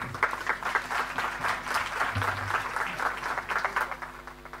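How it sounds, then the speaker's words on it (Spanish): An audience at an education seminar applauds to welcome a presenter, a dense, even patter of clapping that carries on steadily for several seconds, with a faint voice briefly underneath. "La recibimos con un gran aplauso."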